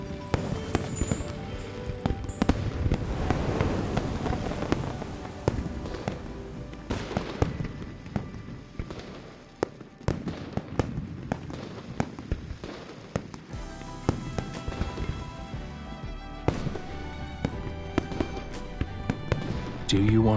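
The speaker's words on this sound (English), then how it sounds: "Do you want to set off fireworks in Hungling City?" Fireworks in a video game set in Hungling City, a dense run of crackling pops and bursts under music, with a voice speaking over them.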